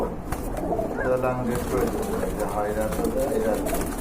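Bombay pigeons, a black pair, coo in soft rolling bursts close by, with people talking over them.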